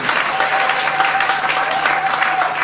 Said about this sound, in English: Somebody give Jesus a clap.